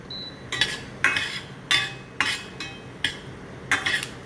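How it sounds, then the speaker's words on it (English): Garlic frying in a pan while a utensil scrapes and stirs it, giving about seven crisp, evenly spaced bursts of clatter over a soft sizzle. "So first we've got our garlic in, which we're going to fry up till it comes to a nice golden brown color."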